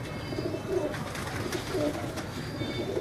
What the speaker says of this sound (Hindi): ये सलारे कबूतर हैं जी